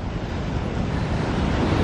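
Ocean water surges into the St Lucia Estuary channel with a constant rushing roar of surf, mixed with steady wind buffeting, loud and unbroken throughout.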